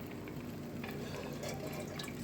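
Water poured into a pot of black-eyed beans for an Indian bean dish, a steady close filling and splashing sound that runs unbroken throughout, with no talk.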